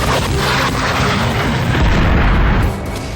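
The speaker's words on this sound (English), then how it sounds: "It explodes with a force of 2 hand grenades" A malfunctioning flare blasts inside a Phantom fighter jet with the force of two hand grenades, a loud, dense roar that fills the air and holds for about three seconds before easing slightly.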